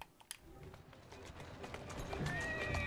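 Horse-drawn carriage in Assassin's Creed Syndicate, with hooves clip-clopping and a horse whinnying amid a steady rumble of wheels and street ambience that builds over a few seconds.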